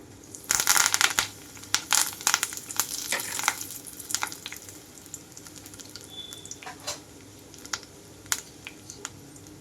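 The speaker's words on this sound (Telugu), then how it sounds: "ఆయిల్ అంతా కాగాక తాలింపు గింజలు అలాగే ఎండమిరపకాయలు వాటితో పాటుగా కొన్ని కరివేపాకు రెమ్మలు కూడా వేస్తున్నాను" Tempering seeds, dried red chillies and curry leaves hit hot oil on a low flame for a raw mango and coconut chutney, bursting into loud crackling spatters that thin into intermittent pops and hissing, close up with no talking.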